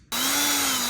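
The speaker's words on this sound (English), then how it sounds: "After you drill the hole" A step bit drilling a hole for a Quick-Latch install, a steady power-drill whine starting abruptly after a brief quiet moment and holding loud and even to the end.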